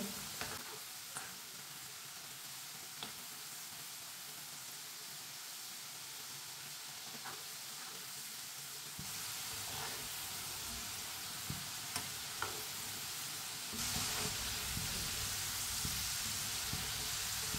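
Potato chips frying in hot oil over a low flame, a continuous soft sizzle and hiss with occasional stirring clicks that grows slightly louder in two steps, no voices.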